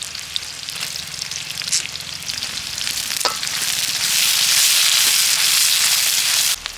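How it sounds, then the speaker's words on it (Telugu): Chopped onions and green chillies sizzle in hot oil in a pan for a Telangana-style korameenu fish curry, a close, steady crackling fry that is stirred now and then and grows louder and more hissing toward the end. "ఉల్లిపాయలు, పచ్చిమిర్చి వేసుకోండి,"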